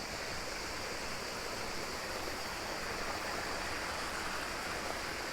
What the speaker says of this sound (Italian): l'acqua che vedete scorrere qua è la continuazione dell'acqua all'interno del Vittoriale